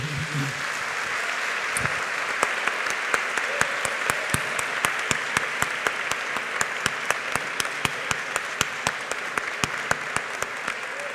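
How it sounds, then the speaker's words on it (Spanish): Audience applause after a poetry gala reading, a dense, sustained clapping from a crowd with sharp individual claps standing out, steady and fairly loud for the whole stretch, without speech over it. "yo creo que un aplauso para nuestros poetas"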